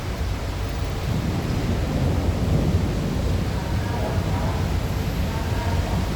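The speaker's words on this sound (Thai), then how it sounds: "ฝนยังไม่หยุดครับ ตอนนี้ยังตกอยู่นะ ฟ้ายังแลบอยู่นะ" Steady heavy rain with thunder roars throughout at night, a low rumbling undertone beneath a continuous dense wash of noise with no pauses.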